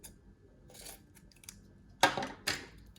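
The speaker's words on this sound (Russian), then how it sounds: "Затем маленькими ножницами." Small scissors snip around the edges of a handmade Christmas tree ornament, a few faint quiet cuts followed by two crisp, close snips.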